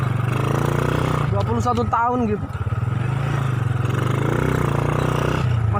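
A 1999 Honda Supra X motorcycle with a modified clutch pulls away from a stop, its small engine droning steadily with a brief rising rev in the middle while someone talks over it.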